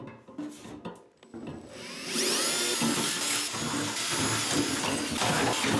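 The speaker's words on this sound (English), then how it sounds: "quarter inch drill bit." A power drill with a quarter-inch bit bores into a part while a Tanks Inc in-tank fuel pump is being installed, with a few handling knocks first, then a loud, sustained whining grind.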